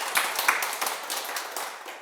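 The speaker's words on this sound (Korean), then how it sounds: "큰 박수 부탁드립니다" An audience applauding at a lecture: a short burst of many hands clapping, dense and steady, fairly close and loud, with no talking over it.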